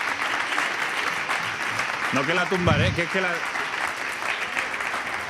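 Steady audience clapping fills a Spanish comic monologue during a raffle, continuous and moderately loud, with someone speaking briefly over it midway.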